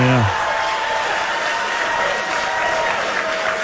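Audience at a presidential debate cheers and applauds in a steady, dense roar that fills the space throughout, with a brief voice at the very start.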